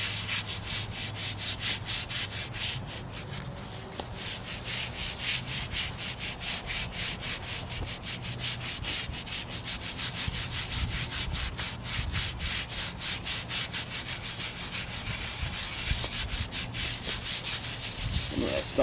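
A stiff brush scrubs a surface wetted with D2 cleaner in steady back-and-forth strokes, a continuous close rasping rhythm lasting throughout with no talk.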